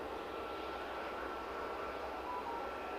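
A WestJet airliner approaching Edinburgh airport from over the coast: a faint, distant, steady engine roar and rumble that holds constant throughout, with no voices.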